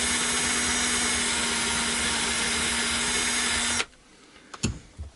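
Power drill boring a 6mm hole in a travel guitar body for a switch, a loud steady whine for nearly four seconds that stops abruptly, followed by a few faint clicks and handling knocks.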